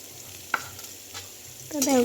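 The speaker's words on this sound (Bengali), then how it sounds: "এবার আমি পেঁয়াজ দিচ্ছি পেঁয়াজটা ভেজে নেব লাল লাল করে" Close, sustained sizzle of onions frying in a pan, broken by a sharp clack of a spatula and a brief stir scrape, loudest near the end.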